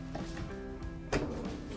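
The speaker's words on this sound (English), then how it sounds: "here's my favorite drawer in the kitchen" A garbage can drawer in the kitchen of a Dutchmen Voltage 4195TH RV slides open with a short thump and rattle, close and moderately loud, amid faint room hum.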